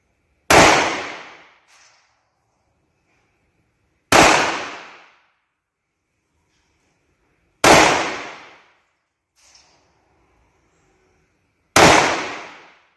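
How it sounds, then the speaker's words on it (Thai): Four loud, sharp pistol shots from a Sig Sauer P356 firing copper-jacketed rounds at seven yards, spaced about three to four seconds apart, each with a quick decaying ring and faint clinks between. "ซิกซาวเออร์พีสามหกห้า กระสุนหัวทองแดงระยะเจ็ดหลา สิบสองนัด"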